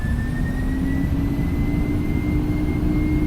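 Steady, loud roar of Boeing 767F cargo jet engines at takeoff power in X-Plane 11, a constant low rumble with a thin whine held unbroken throughout.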